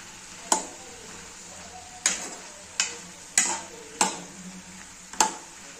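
A spoon stirs bottle gourd curry in a pan, six separate scraping knocks against the metal at irregular intervals over a soft sizzle, close and clear, with no voices.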